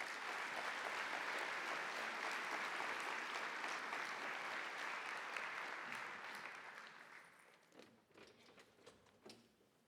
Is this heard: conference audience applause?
yes